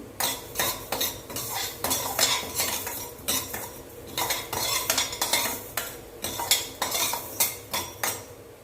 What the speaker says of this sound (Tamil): நம்ம இந்த வெந்தயம் கடுகு எல்லாத்தையும் வறுத்துட்டு வந்துடலாம்